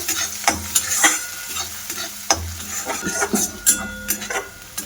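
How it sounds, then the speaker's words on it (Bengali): Masala with ginger-garlic paste sautéed in a pan, loud close sizzling under busy stirring, with spatula clinks and scrapes against the metal at an uneven rhythm. "এক চামচ মতো আদা রসুন বাটা দিয়ে দিলাম দিয়ে মশলাটা এবার বেশ ভালো করে কষিয়ে নেব"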